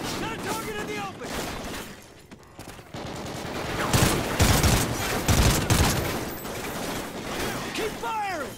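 Heavy battlefield gunfire in the Call of Duty: Ghosts campaign on Veteran difficulty: sustained volleys and bursts of rifle fire swell and build in loudness, mixed with shouted soldier voices and scattered mechanical clatter.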